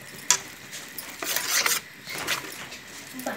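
Spice paste for a Bengali egg and potato curry sizzling and being stirred in a pan, with soft scraping and bubbling in uneven bursts, close and moderately quiet, no talk.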